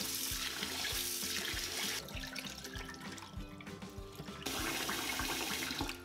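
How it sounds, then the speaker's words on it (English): Tap water runs into a bowl of glutinous rice being rinsed, a loud rushing splash that drops to quieter swishing and dripping partway through, then the strong flow returns near the end. "the next day, we're gonna rinse the glutinous rice for several times."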